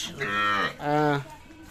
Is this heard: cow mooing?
yes